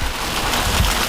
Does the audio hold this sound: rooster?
no